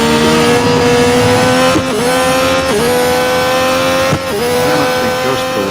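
A Formula 1 race car engine in the Real Racing 3 mobile game screams at steady high revs, with sharp drops at gear changes and brief rises as it accelerates. Loud and constant throughout, with no talk.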